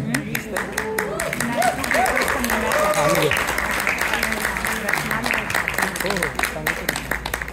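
An audience at a Ganapati skit claps in sustained, dense applause while voices talk over it.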